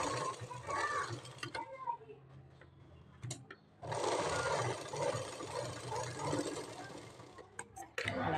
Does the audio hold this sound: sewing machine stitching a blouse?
yes